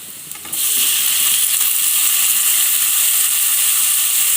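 Tomatoes sautéing in a pan for a Tamil-style pepper chicken curry, a steady loud sizzle and hiss that rises suddenly after a brief quieter start and holds evenly throughout.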